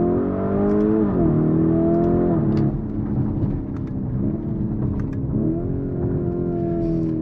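A Lamborghini Urus S SUV engine pulls hard and loudly, its rising and falling tone shifting through gears over a steady road rumble.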